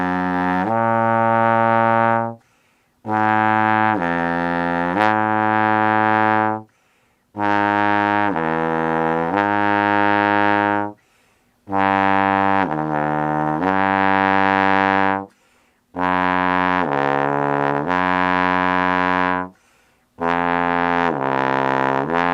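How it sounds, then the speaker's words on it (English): A trombone plays false tones, sliding down a major third and back up from first and then second position, in several sustained phrases separated by short breaths, loud and close with no talking. "start in first position and gliss down by major third, then gliss back up, go to second position"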